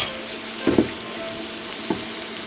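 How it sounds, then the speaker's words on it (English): Canned chickpeas go into a skillet of hot tomato sauce with a soft, steady sizzle, broken by a couple of short clinks and scrapes from a utensil or the pan. "the final step is just to add them to the skillet along with the tomato sauce"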